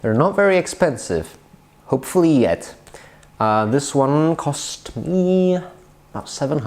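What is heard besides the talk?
No everyday noises stand out.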